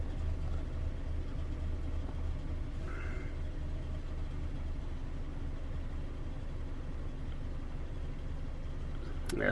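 A Ford Ka 1.2 with a misfiring cylinder idles quietly in a steady, low, slightly uneven drone that continues throughout, with no voices.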